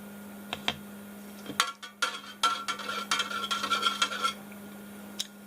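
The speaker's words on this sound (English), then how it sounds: "Give that a stir." Stirring a mixture in a container while preparing a respiratory infection treatment for a snake: scattered clinks and a quick run of scraping, tapping strokes of a utensil against the sides, close and alone over a low steady hum.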